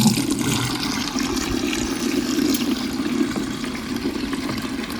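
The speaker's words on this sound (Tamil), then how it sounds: "தண்ணி ஊற்றுங்க." Water pours steadily into a motor pump during priming, a continuous splashing, gurgling rush that holds at an even, fairly loud level throughout.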